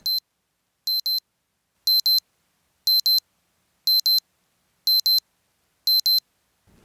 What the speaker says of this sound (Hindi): अलार्म बंद नहीं कर सकते क्या?